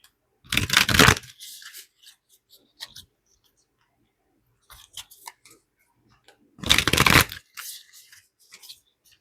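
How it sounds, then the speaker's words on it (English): Two bursts of tarot cards being shuffled up close, riffled briskly with quiet handling sounds between them. "I hope you guys don't mind me shuffling"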